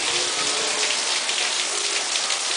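Steady rain falling on a Florida day, a dense continuous patter and hiss on surfaces, loud and close throughout with no talking.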